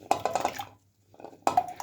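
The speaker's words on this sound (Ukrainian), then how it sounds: "Тепер беремо вже нашу нарізану моркву нашу, ось цю, бачите, і засипаємо її" Chopped carrots are tipped into a pot in a clattering rush, a pause, then a second pour, loud and close in a kitchen.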